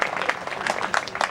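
Audience at a school annual function with a Hindi comic poet claps in scattered, uneven bursts, the applause rising and falling in a few loud clusters.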